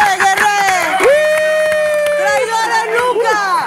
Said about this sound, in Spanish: ¡El grito de guerra!